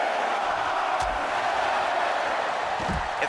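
A wrestling crowd inside an arena roars in a steady, dense wash of cheering that holds loud throughout, with a few sharper shouts rising out of the mass.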